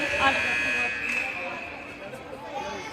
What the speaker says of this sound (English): And we have a false buzzer